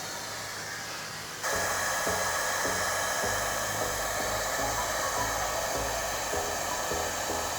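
Futon dryer blowing hot air into bedding: a steady, loud, broadband whoosh that jumps up in level as the airflow starts, then holds constant with a faint low rumble underneath.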